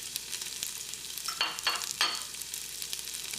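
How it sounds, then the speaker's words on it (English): Chopped onions and peppers sizzle in beef grease and browned bits inside an Instant Pot, a steady soft hiss with a few louder crackling bursts as they hit the hot surface and get stirred. "So I'm going to add the onions and the peppers,"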